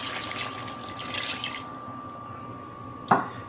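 Water pours into a stew pot of shrimp caldo de camarón with a steady, faint splashing trickle and a thin ringing tone, ending in a sharp drip or clunk near the close. No one speaks.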